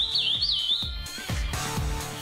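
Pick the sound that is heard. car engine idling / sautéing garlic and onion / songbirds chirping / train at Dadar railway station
songbirds chirping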